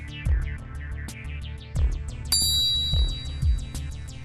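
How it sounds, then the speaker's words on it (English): A golf ball struck with a Mizuno MP52 forged iron with a milled pocket cavity, giving one crisp, ringing click partway through, set over steady background music. "That is the sound of feel of the MP52,"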